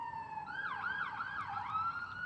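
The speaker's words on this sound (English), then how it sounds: "that was an ambulance that just drove by my street" An ambulance siren on a residential street, a wailing up-and-down tone heard at moderate distance over steady background noise, with no talking.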